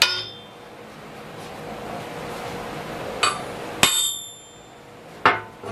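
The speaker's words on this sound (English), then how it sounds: "you're hammering the crank all the way up this way" An engine crankshaft is struck with a hammer to set its thrust, giving a few sharp metallic knocks spaced a second or two apart against a quiet workshop background.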